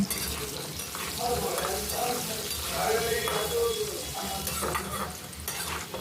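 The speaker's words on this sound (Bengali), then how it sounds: "তেলটা গরম করে আলুটা দিয়ে দিচ্ছি আলুটা ভালোভাবে ভেজে নিতে হবে" Potatoes fry in hot oil with a pinch of turmeric, a steady close sizzle broken by the scrape and shuffle of stirring in the pan throughout.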